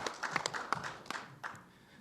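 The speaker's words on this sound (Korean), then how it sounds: "큰 박수로 맞아주시기 부탁드립니다" Audience at a seminar welcoming a presenting professor, a short patter of clapping from a small crowd that thins out and fades within two seconds.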